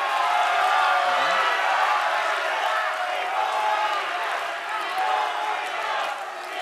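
Debate audience applauding and cheering for the candidates' supporters, a dense sustained roar of clapping and crowd noise filling the hall at steady loudness throughout, with voices mixed into the din.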